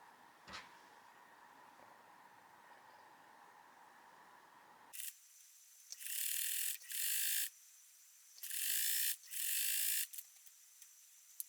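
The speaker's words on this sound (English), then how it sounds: "Fold the piece in half and sew the center seam." A sewing machine stitches the center seam of a fabric trapper hat, running in four loud, close bursts of rapid whirring with brief pauses between them, after a quiet stretch at the start.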